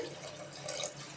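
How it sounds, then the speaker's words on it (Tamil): Water from a tap pours steadily into a pot of goat thonjal curry, a soft continuous splashing and trickling close by, quiet and unbroken for a moment. "கொஞ்சம் தண்ணி விட்டு"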